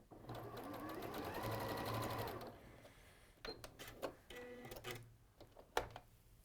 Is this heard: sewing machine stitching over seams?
yes